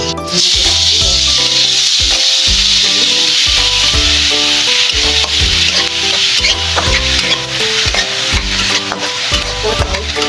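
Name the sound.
garlic sizzling in cooking oil in a pan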